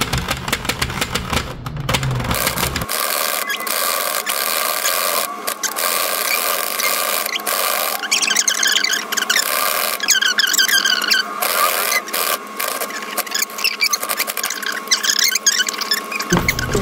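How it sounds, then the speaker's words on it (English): A circular knitting machine from Michaels runs with its yarn catching and popping, a fairly quiet mechanical whirring and clicking with sharp intermittent pops throughout, no voice over it. "you can hear that popping sound. That's because that yarn right there is popping."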